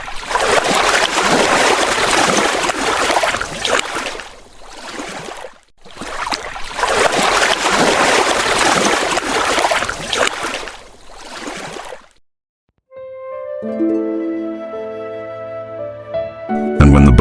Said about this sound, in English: when the boat started moving away from Pengkalangawi